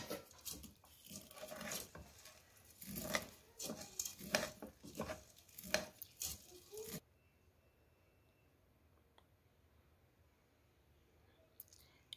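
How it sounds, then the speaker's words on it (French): Pasta and rice being stirred together in a pot, giving soft clinking and scraping knocks in an irregular rhythm for several seconds before falling to near silence. "je vais bien remuer l'ensemble pour que mon spaghetti ou du moins mes pâtes se mélangent bien au riz"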